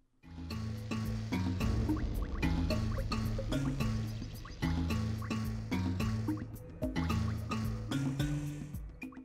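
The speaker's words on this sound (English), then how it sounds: "You can see grass growing along the pipes and in the places where the eco drips onto the floor." Eco liquid drips onto the floor inside Samos' hut in Jak and Daxter, a loud, continuous wet dripping and squishing texture with a rhythmic pulsing pattern layered over low droning game music.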